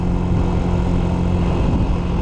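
A jet aircraft passes overhead on a ride in Montana, its engine roar a loud, steady broadband rumble filling the whole stretch.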